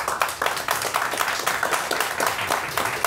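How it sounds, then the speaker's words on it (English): A studio audience applauding Kareem Abdul-Jabbar, a steady, dense burst of clapping from many hands that stays loud and even throughout. "we have a studio audience here to cheer you on"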